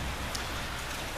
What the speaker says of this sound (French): Et vous voyez donc sous une belle petite pluie fine